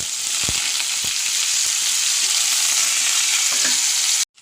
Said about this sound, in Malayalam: ചട്ടി വെച്ച് എണ്ണ ഒഴിച്ചു. എണ്ണ കാഞ്ഞു. വെളുത്തുള്ളിയും ചുവന്നുള്ളിയും വേപ്പിൻ്റെ ഇലയും കൂടി.